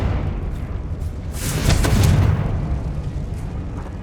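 A Confringo spell explosion in the Hogwarts Legacy video game, a rumbling blast that swells and fades over a couple of seconds above a steady background noise.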